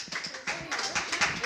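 Quick bursts of clapping from a class of students at an eighth-grade quiz competition, close and uneven, with voices chattering underneath.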